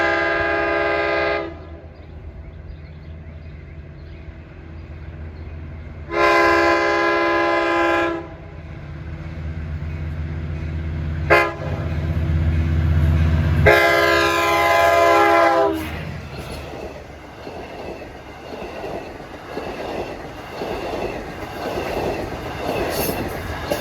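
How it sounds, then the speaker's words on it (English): Locomotive 510 sounds its K5L horn in several long blasts, some held for seconds, loud and near, over the rumble of a passing train with wheel noise. "510 has a K5L horn. You can hear it."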